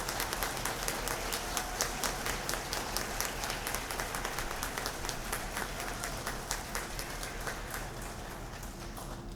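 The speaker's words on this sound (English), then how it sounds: "Please give a big round of applause to all of our award nominees." A school district audience applauds its teacher award nominees with steady, dense clapping that runs the full length at moderate volume, with no voices over it.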